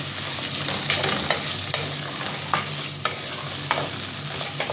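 Carrots just added to a hot pan, cooking with a loud close sizzle and repeated scraping strokes of a spatula stirring at an uneven rhythm, no speech.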